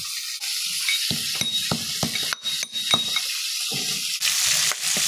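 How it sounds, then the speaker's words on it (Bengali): Mutton pieces frying in a pan for a goat or sheep curry, giving a steady sizzle with repeated stirring scrapes and a few utensil clinks against the pan, fairly close and with no voices. "মাংসগুলো আমার ভাজা হয়ে গেছে"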